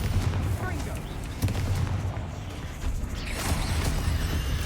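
A fire-spell blast in Hogwarts Legacy erupts as a booming, rumbling burst with crackling debris and mechanical clatter, loud and dense throughout, with game combat noise and a voice mixed in.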